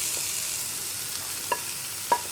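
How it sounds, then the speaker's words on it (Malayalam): A papaya, carrot and coconut thoran is stirred in a pan over a steady soft sizzle, with two brief metallic scrapes of the spoon against the pan. "നമ്മളൊന്ന് ഇളക്കി മിക്സ് ചെയ്തതിന് ശേഷം ഒന്ന് അടച്ചു വെച്ച് കുക്ക് ചെയ്യാം"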